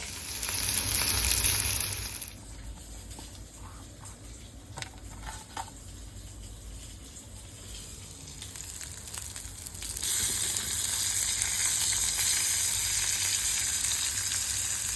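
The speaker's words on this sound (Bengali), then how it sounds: "আজকে রান্না করছি ইলিশ মাছ" Hilsa fish fries in a pan with a loud, close, steady sizzle. The sizzle dips to a quieter crackle with a few clinks, then surges back strongly.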